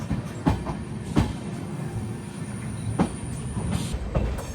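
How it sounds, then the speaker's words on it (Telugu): A WAP-7 electric locomotive hauling the Amrit Bharat Express at a railway junction with a pit line, a steady rolling rumble with several sharp clanks and rail clicks, heard close and fairly loud with no talk. "వ్యాప్ 7 లోకోమోటివ్."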